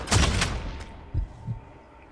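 A quick cluster of loud gunshots in Warhammer 40000 Deathwatch, then two fainter, deeper thuds that fade into quiet.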